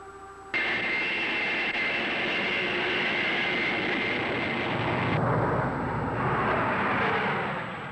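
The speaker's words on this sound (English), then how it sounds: "Here's the takeoff as the remote pilot sees it." A jet-powered remotely piloted QF-9 drone roars loudly and continuously during its takeoff run at China Lake, a dense, sustained engine rush that rises abruptly near the start and holds steady throughout.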